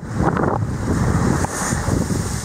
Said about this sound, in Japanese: はい、波来ましたね。